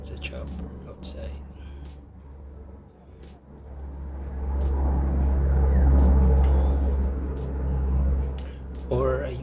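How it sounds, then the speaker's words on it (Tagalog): A chopper flies past outside, a deep low rumble that swells from a distant drone to a loud, close roar before easing slightly, with people talking in the room over it. "I think it's a chopper outside."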